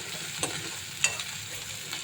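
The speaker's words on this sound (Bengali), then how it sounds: "এই যে মশলাটা কষাচ্ছি।" Spice paste fries and is stirred in a pan: a steady close sizzle with a few soft scraping strokes, and no voices.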